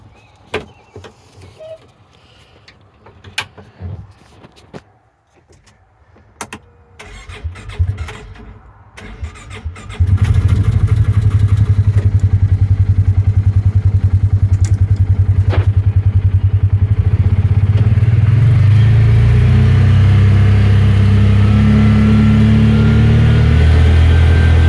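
A 2020 Polaris Ranger utility vehicle starts up after some handling clicks and knocks, then its engine drones loudly and steadily up close as it pulls away and drives, rising in pitch as it speeds up.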